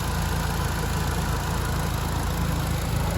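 A Renaultsport Clio F1 Team Edition fitted with a K-Tech Racing induction kit idles close by, a loud, steady engine drone with no breaks.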